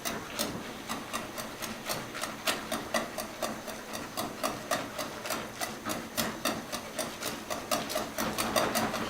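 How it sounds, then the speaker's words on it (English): A whisk mashes boiled potatoes in a pot, making a steady, rhythmic series of scraping, thudding strokes, close and fairly even in pace, with no talking over it. "I'm just going to simply start mashing the potatoes with the whisk"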